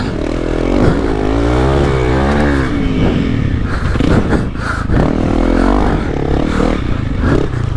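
A Honda CRF300L dirt bike accelerates hard on a dirt track, its close, loud engine revving up and down in repeated rising sweeps for the whole stretch, with rattling clatter and rushing wind noise underneath.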